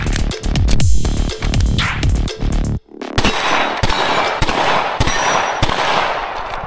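A Staccato XC pistol fires rapid loud shots on the move, about a dozen sharp cracks in quick bursts with ringing metallic clangs from steel targets, a brief gap near the middle, then a steadier string of spaced shots.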